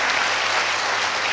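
Audience clapping at a talk in a hall, a dense, even burst of many hands, loud and continuous across the moment with no talking heard.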